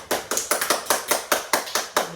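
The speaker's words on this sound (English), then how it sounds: "Clap." Quiz players clap for a right answer, about a dozen crisp, evenly spaced hand claps in a quick steady rhythm, close and fairly loud with no talking.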